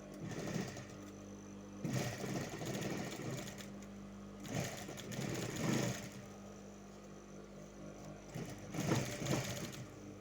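A sewing machine stitches stretchy jersey knit fabric with no paper underneath, the bursts of fast whirring running in several runs separated by short pauses, close and steady.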